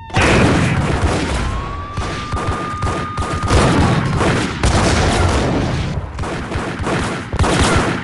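Gunfire in the video game Max Payne: dense, rapid bursts of shots and booms fill the whole stretch, loud and close, with no voices.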